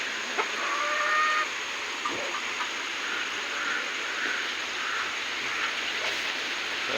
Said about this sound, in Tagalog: Yan mga Chinese chicken oh.